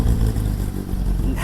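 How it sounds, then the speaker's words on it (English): A 2015 Porsche 911 GT3 (991.1) exhaust revs hard and close, a steady loud engine roar that holds through the short burst with a slight dip midway before swelling again. "The promised exhaust clip in 3,"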